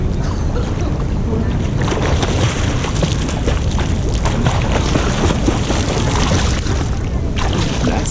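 Continuous rushing, churning water from a nervous learner swimming in deep water, with occasional splashes. The wash stays close and loud throughout, with a wind-like roar and no clear voices.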